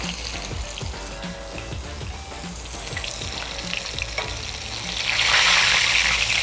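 Chapli kebab frying in hot oil gives a steady, close sizzle that grows louder and brighter in the last couple of seconds, with no talk over it.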